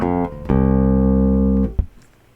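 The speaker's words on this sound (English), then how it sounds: "Let me bypass Amplitube and just hear the direct bass sound that I got." Direct bass guitar signal running straight into a mixer with no amp simulation, a short pluck followed by one sustained low note ringing for over a second, then cut off with a small thump.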